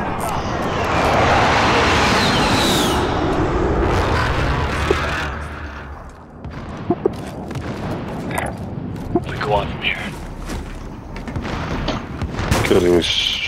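Gunfire and booming explosions in the battle-royale video game Call of Duty: Warzone, with loud sustained blasts early on giving way to scattered sharp shots, under a player's voice.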